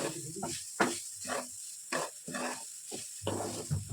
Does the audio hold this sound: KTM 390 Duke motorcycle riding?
no